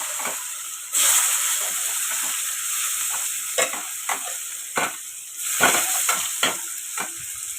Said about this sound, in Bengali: আলুগুলো আমি একটু ভেজে নেব।